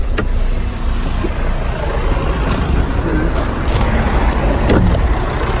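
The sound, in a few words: Audi Q5 turbo engine idling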